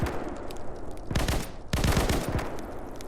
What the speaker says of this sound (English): Okay, now we're getting shot.